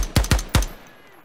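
Three loud, sharp shots from an unsuppressed HK416 rifle in the Ground Branch video game, fired in quick succession, each with a short ringing tail.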